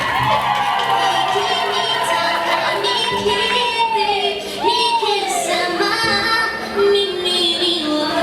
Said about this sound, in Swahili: Jamani, makofi na vigelegele.